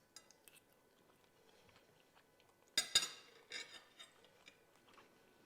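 A Beyond Burger vegan patty is bitten with a sharp crunch, then chewed in soft, wet bursts. The sounds are close and quiet, with no talk.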